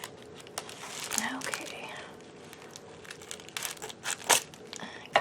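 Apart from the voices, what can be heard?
unwrapping a heavily taped package during an unboxing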